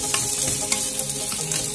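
Butter garlic chicken sizzles over low heat in a pan while a utensil stirs it, a constant close frying hiss with light scrapes and taps and no talk.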